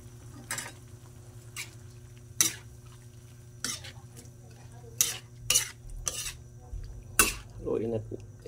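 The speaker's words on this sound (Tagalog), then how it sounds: "Haluin natin mga idol para halo natin yung pampalasa." A spoon stirring squid adobo seasoning with bay leaf and pepper in a pan, giving sharp scrapes and clinks in intermittent strokes over a soft, low simmer. The sound is close and fairly quiet.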